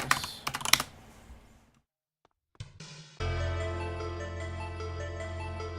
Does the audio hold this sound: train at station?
no